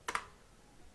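A couple of quick keyboard clicks as someone types a folder name into a browser address bar on a Windows 10 computer, two sharp taps close together and then near silence.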